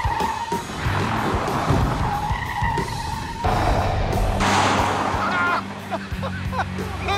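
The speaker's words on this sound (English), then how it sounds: "I turn in, get the drift going, and there it is." A Lancia Gamma Coupe drifts through a corner, its tires squealing in sustained wavering screeches over a loud engine roar, with a brief break before the squeal returns.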